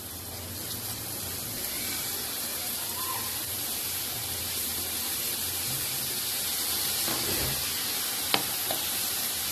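Finely chopped fenugreek greens hit a hot pan and sizzle steadily, a constant frying hiss with faint stirring and a sharp clink near the end.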